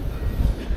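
A train rumbles low and steady along the rails near Paris, close and continuous for a brief moment with no voices.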